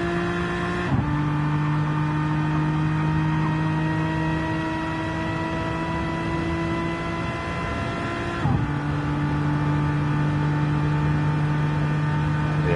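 A race car engine in a racing sim game drones at a steady high pitch during a hot lap, with two sharp gear shifts and a slight drop in tone between them, loud and continuous with no voices.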